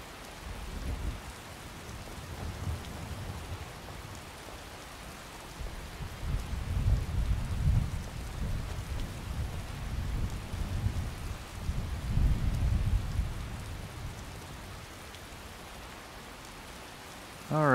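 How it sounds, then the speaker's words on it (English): Rain falls steadily in the video game Skyrim, with low thunder rumbling through the downpour in long swells that build and fade. No voices are heard. "Rain doesn't look bad."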